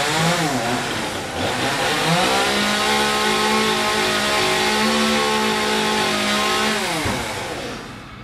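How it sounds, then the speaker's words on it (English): A chainsaw runs hard while cutting down a yard tree during tree service work, its engine whining at high revs in long sustained pulls, dipping and surging before dropping off near the end. "They're gonna cut down the tree and haul everything away."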